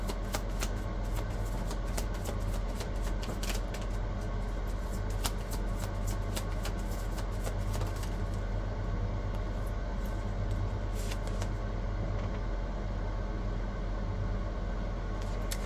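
A deck of tarot cards is shuffled close up during a reading, a steady run of crisp riffling and flicking that continues almost without pause, loud and alone over a soft noisy background.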